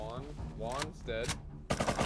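Gunfire in the game Rust, a few sharp, loud cracks clustered near the end, with players talking over most of the clip.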